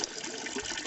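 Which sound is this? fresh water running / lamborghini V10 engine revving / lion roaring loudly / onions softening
fresh water running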